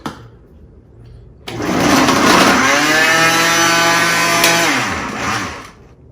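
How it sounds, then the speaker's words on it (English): A blender kicks on after a moment of quiet and whirs loudly, its pitch shifting as it chops tangerines, then winds down. "we're gonna put them in the blender"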